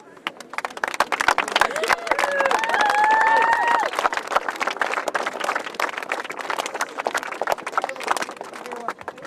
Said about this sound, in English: you deserve a very sincere round of applause